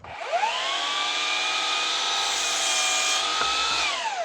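Saw cutting wooden back supports for a lawn chair, a steady sustained whine with rising tone at the start and a drop-off near the end, close and loud with no talk.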